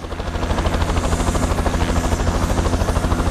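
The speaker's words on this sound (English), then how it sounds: "The Swiss Super Puma helicopter is being prepared for a firefighting mission, taking off with its still empty water bag." Swiss Super Puma helicopter preparing for a firefighting mission with an empty water bag, its rotor thumping in a steady, loud, close rhythm over the constant turbine roar, with no voices.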